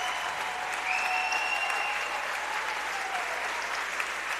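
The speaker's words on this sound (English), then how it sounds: "The crowd bringing her home." A crowd at a girls' state high school swimming finals cheers and applauds steadily for a swimmer nearing the finish, a loud continuous roar of clapping and shouting echoing through an indoor pool hall.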